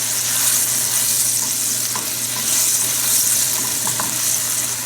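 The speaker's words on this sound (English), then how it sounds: "And cook the wine off." White wine sizzles as it cooks off in a hot pan with pork for a creamy Calvados and apple sauce, a loud, steady hiss throughout with faint stirring clicks.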